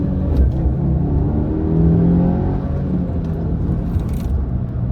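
A 2023 Subaru WRX accelerates on empty early-morning roads, with a loud, steady engine rumble and a slowly rising drone as the revs climb, heard from inside the car.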